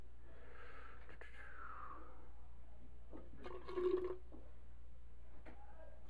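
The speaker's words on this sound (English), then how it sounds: "we're going to dump a little bit of water out of here until we have 9 ounces" Water is poured out of a film-developing container into a sink, giving a soft, steady splash and trickle with a brief louder gush midway; no talk.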